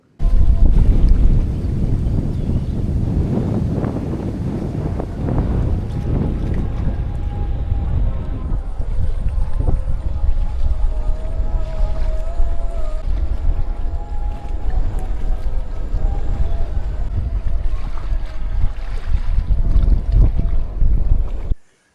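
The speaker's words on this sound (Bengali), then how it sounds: "কি জোরে জোরে পাড়ে এসে আসতে পড়ছে ঢেউগুলো।" Strong wind batters the shore of a large lake in Chuadanga as waves roll in and break, a continuous loud, roaring wash with heavy gusts buffeting close by and no voices.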